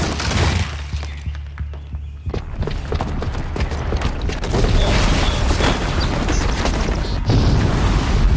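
A bomb blast in the video game Horizon Zero Dawn, heavy booming crashes and rumbling debris rolling on for several seconds, loud and close, with clanking mechanical impacts layered through it.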